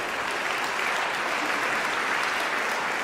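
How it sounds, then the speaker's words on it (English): An audience at a magic show gives a volunteer a steady, full round of applause, a dense continuous clapping that stays even in loudness throughout. "give her a round of applause"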